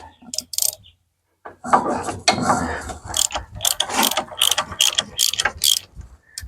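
A hand ratchet turns a bolt on a John Deere F525 or F515 mower, giving rapid clicking strokes in several bursts with short pauses, loud and close, and no talk.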